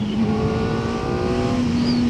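A 2025 Kawasaki Ninja ZX-4RR engine bogging down in the wrong gear, a steady low droning note that barely rises, loud and close under wind noise, no voices.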